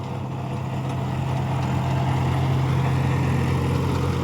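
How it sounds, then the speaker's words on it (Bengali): A John Deere 5050D 4WD tractor runs steadily in low gear with a rotavator working soil for a potato crop, a loud, constant low engine drone with no breaks or voices. "2 নম্বর লোয়ে চলছে জন ডিয়ার 50-50D 4 হুইল"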